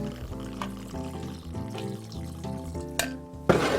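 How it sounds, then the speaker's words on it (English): Two ounces of rum pour into a cocktail shaker filled with ice for a Mai Tai, a steady liquid trickle with ice clinking, ending in a louder sloshing burst. "we get some ice in a shaker, and we want 2 ounces of rum"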